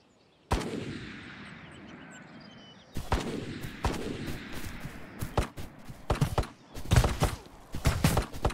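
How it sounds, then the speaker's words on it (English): Gunfire from an enemy player in the VR shooter Ghost of Tabor: repeated sharp shots, first isolated reports, then faster bursts and clustered cracks that grow denser toward the end. "I don't know where he's shooting from"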